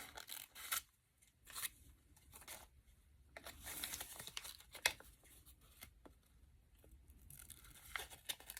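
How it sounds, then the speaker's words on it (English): Scissors cutting a section from the middle of a stiff striped material, following one stripe as a guide: a few bursts of crisp snips and rustling, close and fairly quiet, separated by short pauses. "So I'm just going to cut a section off."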